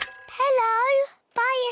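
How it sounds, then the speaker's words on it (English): A cartoon fire station telephone rings in two bright, warbling electronic bursts separated by a brief silence, clear and close. "It's the fire phone. Oh, can you answer it, Peppa?"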